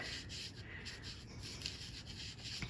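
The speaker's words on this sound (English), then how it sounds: "I've got a sponge dauber here, and I'm just going to burnish this into my tape" A sponge dauber burnishes gold foil onto adhesive tape on a greeting card, making soft, close, rhythmic rubbing strokes that are faint and steady with no voices.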